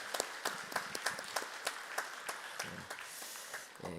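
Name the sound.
congregation applauding in welcome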